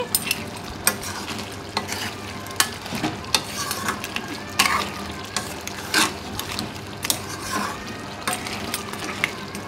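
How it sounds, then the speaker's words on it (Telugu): A spoon stirs masala through crab (pitalu) curry in a pan, Andhra style, with repeated scraping and clanking strokes over a steady sizzle, close and fairly loud, no voices. "వేసేసుకొని మొత్తం ఒకసారి కలిపేసుకోవాలండి"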